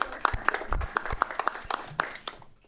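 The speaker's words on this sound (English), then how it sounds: "Give them a round of applause, if you would." Sparse applause from a small audience at a county board of commissioners meeting, a handful of separate claps spaced across a couple of seconds, fairly quiet and fading out.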